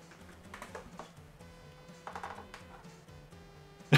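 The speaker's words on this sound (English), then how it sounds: "if you listen to it, sounds like the PET, Commodore PET keyboard" Keys clatter on a BBC Micro computer keyboard, an uneven run of clicky keystrokes in bursts with brief pauses, close and fairly quiet, ending in a sharper tap.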